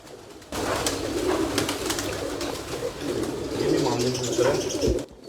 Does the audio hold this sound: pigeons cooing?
yes